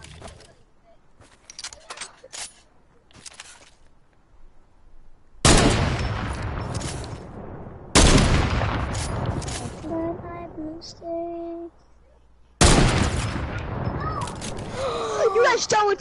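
Video game gunfire, loud bursts of shots erupting in separate clusters with quieter gaps between, close and sharp, while several players chat and shout throughout.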